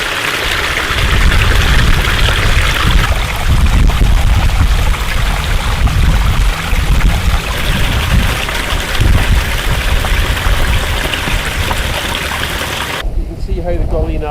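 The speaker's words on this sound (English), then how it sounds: "there's a cool wee stream coming down here" Rushing water of a small mountain stream tumbling down a rocky gully in the Sperrin Mountains, a steady broadband flow held close and loud for most of the time before cutting off abruptly near the end.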